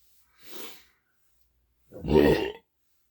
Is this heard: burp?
yes